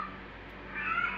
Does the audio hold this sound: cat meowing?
yes